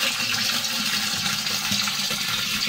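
Water circulated by a pump through a home malt-mash setup for whisky, a steady broadband rushing and churning flow with a low hum underneath, continuous and close, without speech.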